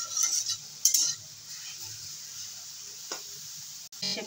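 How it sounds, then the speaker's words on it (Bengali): A spoon stirs coriander leaf bhorta frying in a pan, a few light scrapes and clinks over a quiet sizzle, close and without talk. "একটু নেড়ে চেড়ে রাখতে হবে আলতো হাতে, নাহলে নিচে লেগে ধরবে"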